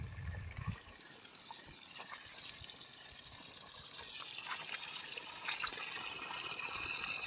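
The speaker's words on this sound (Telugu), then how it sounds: "మళ్ళీ నీళ్ళు వచ్చేసినాయి" Water comes down again through cracks, a faint, continuous trickling flow heard close by, with no one speaking.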